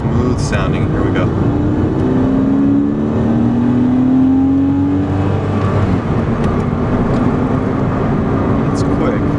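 A 2000 Porsche Boxster S flat-six engine pulls smoothly out of a right turn, a rising tone climbing steadily as the car accelerates from low speed, with road and wind noise underneath.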